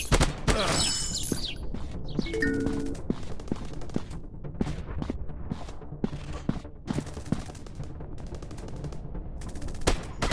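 Rapid bursts of automatic and single-shot gunfire from a Counter Terrorist 3D FPS shooting game like PUBG, loud and dense, with sharp repeated cracks and mechanical clicks throughout.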